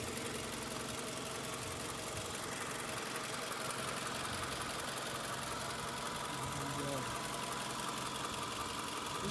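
A 2003 Toyota Camry four-cylinder engine idles steadily at close range, a low continuous hum with faint mechanical ticking, while someone talks over it.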